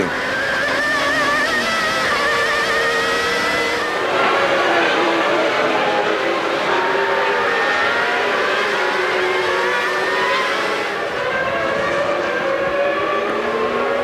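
High-revving engines of 1996 Formula 1 cars, a Ferrari and a Williams-Renault running wheel to wheel in the opening laps, scream loudly and continuously, their pitch rising and falling as they pass.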